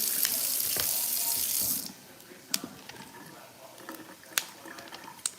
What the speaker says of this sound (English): I'm going to rinse my broccoli crowns off preliminarily